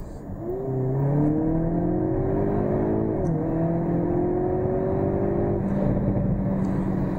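Hyundai Kona N with its 2.0 T-GDI turbo engine and 8-speed dual-clutch gearbox, in a lower gear, accelerating hard with a loud, rising engine note, a brief dip at a shift, then a steady strong pull.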